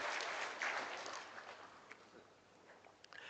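Applause from a crowd at a junior collegiate livestock judging awards ceremony, a soft, fairly distant wash of clapping that fades gradually with a few scattered claps trailing off.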